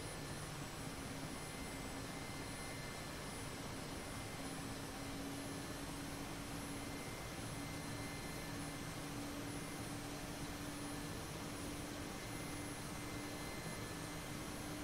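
Steady, unbroken whine and roar of an Mi-8 helicopter's engines and rotor in the DCS flight simulator, a dense constant drone held at even loudness throughout, with no voices.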